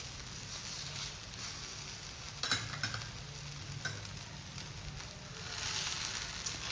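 Uttapam frying on a plain tava, a soft, steady sizzle and crackle of batter in oil, with a couple of brief clatters partway through and the hiss swelling slightly toward the end.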